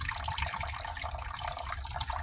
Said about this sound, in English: We got a jug full of ball bearings here. Let's go. Actually, I'm just gonna pour it out this way.